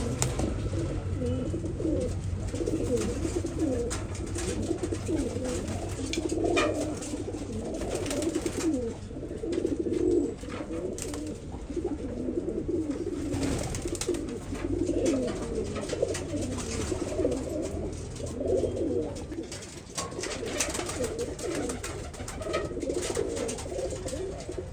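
Pigeons kept in a loft coo over and over in low, rolling calls that overlap one another without a break, set against a steady ambient background. No voices are heard.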